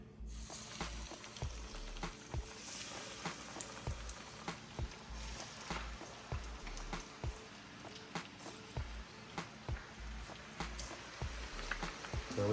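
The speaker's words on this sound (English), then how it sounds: "Now we're just gonna let that fry." Crappie fillets coated in Hot Cheetos batter fry steadily in hot oil, a close, continuous crackle and sizzle with scattered sharper pops running throughout, no voices over it.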